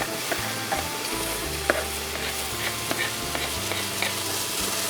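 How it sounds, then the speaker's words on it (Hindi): Tomato and green onion fry in a pan for egg dumplings: a dense, steady sizzle sits up close throughout, with occasional clicks and light stirring taps. "थोड़ा सा ग्रीन अनियन को हम फ्राई करेगा, इससे थोड़ा फ्लेवर अच्छा आता है।"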